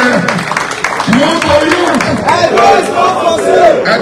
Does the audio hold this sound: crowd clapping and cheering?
yes